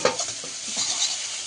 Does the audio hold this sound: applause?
no